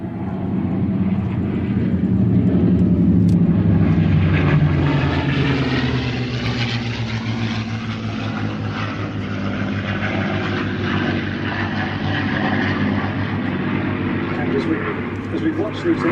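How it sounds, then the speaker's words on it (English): P-51 Mustang warbird in 78th Fighter Group checkerboard colours passing with a loud, rich propeller engine roar that swells and then holds steady, with a voice talking over it. "that's the Mustang in the 78 Fighter Group colours with the checkerboard marking"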